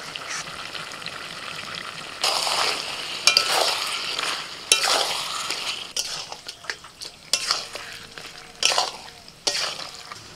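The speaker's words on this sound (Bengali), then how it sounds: "দেখুন আস্তে আস্তে মাংস থেকে তেল ছাড়তে শুরু করে দিয়েছে" Deshi chicken sizzles in a pan with turmeric, salt and coriander powder as a spoon stirs and scrapes over the base, a steady frying hiss broken by repeated metallic clanks, close by.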